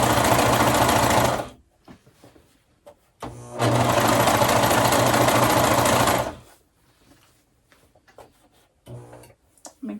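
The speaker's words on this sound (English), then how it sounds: "Make sure you're only sewing through the one layer." Sewing machine stitching skirt fabric, two sustained runs of fast, steady mechanical whirring close up, separated by quiet pauses with faint handling noises.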